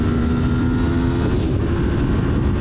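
A 1993 Honda VFR750F motorcycle with gear-driven cams and a carbon fiber exhaust drones steadily and loudly while riding, its engine note holding even throughout.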